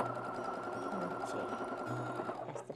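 A sewing machine runs continuously while stitching a garment from the shoulder seam, a close, steady whirring hum with rhythmic needle clatter that fades slightly near the end.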